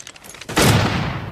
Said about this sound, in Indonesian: Glass yang mendengar suara tembakan tersebut